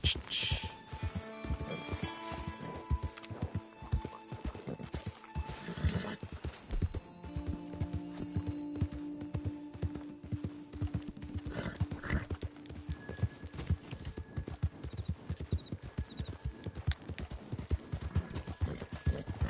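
Hoofbeats of a horse galloping steadily in Red Dead Redemption 2, a fast clip-clop rhythm running throughout with faint game ambience and occasional voice.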